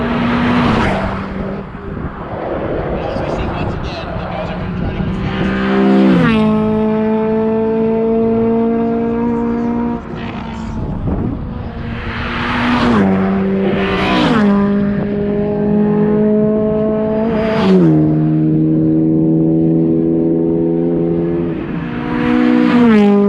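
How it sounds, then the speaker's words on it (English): Production front-wheel-drive race cars lap a circuit during a time attack event, engines screaming up through the gears with repeated rising whines, sharp shift breaks and successive passes, loud and close with no talking. "let's watch these production front wheel drive cars"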